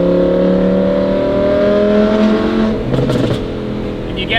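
An Audi R8 V10 fitted with an F1-style exhaust revs loudly and close by. Its smooth, high-pitched engine note holds steady, then dips briefly as the revs fall back.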